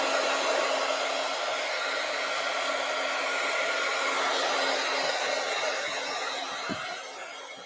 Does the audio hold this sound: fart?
no